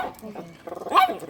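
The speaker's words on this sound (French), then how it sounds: "C'est un chien." A dog gives a short bark or yip near a family outing in Vevey, mixed with nearby people talking in French.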